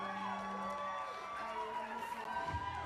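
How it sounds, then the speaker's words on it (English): Crowd cheering and whooping at an election victory speech for New Brunswick's first woman premier, a dense, continuous roar of shouting voices with high cries rising above it. "the crowd is wild with excitement"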